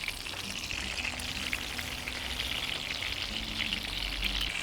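Rolls made from chicken skin fry in a pan with a steady, even sizzle and crackle, close and continuous, with no voices over it.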